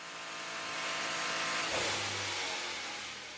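A Bugatti Chiron engine runs on a dynamometer test bench at the factory. Its loud, broad, roaring hum swells to a peak midway and holds steady, with no talking.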